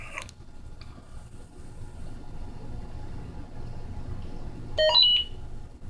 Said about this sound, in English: The radio will beep.